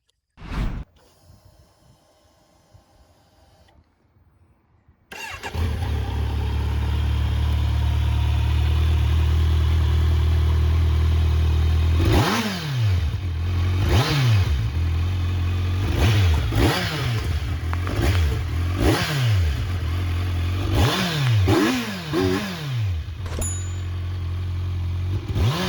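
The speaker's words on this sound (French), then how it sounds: "vous allez voir et entendre le moteur rugir" Kawasaki Z900 motorcycle engine firing up after a quiet pause, settling into a loud, close idle, then revved repeatedly in sharp rising and falling bursts.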